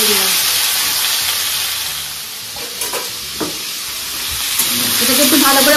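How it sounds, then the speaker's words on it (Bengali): Spices and food frying in a hot kadai after a five-spice tempering, with a steady loud sizzle throughout and a few sharp scraping stirs of a spatula against the pan partway through; no voices. "এটাকে একটু ভালো করে ভাজা ভাজা করে নেবো।"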